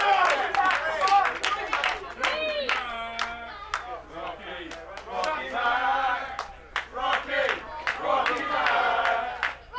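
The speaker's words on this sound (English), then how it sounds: "the more and more the crowd cheer for him and get behind him" Wrestling crowd at a PW Clash show cheering and clapping in loud surging waves, with shouts and whistles throughout the ten seconds, continuous and close with no break in the noise.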